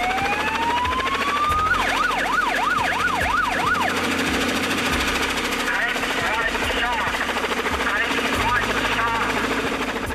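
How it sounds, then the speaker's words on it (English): A shark-patrol helicopter's loud siren wails upward, then yelps in rapid rising-and-falling cycles over the steady, rumbling drone of the helicopter, in New South Wales. "All our helicopters have got a siren and a PA system."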